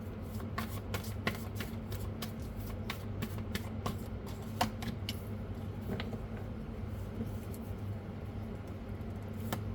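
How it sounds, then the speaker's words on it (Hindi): Tarot cards shuffled and drawn, a faint series of soft, quick flicks and snaps scattered over a low steady background hum, with no talking. "एक कार्ड और ले लेते हैं"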